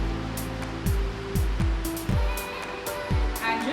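Water pours in a steady, rushing stream over a paper filter set in a V60 pour-over brewer, with low thumps recurring now and then beneath the continuous flow.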